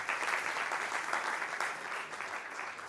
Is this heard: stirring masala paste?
no